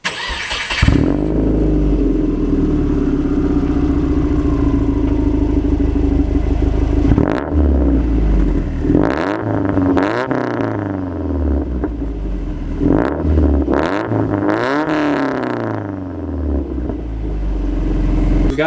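A warm Subaru WRX with its stock exhaust idles with a steady low rumble, then is blipped several times, each rev rising sharply and falling back to idle, loud and close.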